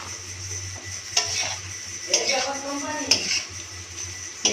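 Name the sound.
stirring and mixing pasta with tomato in a pan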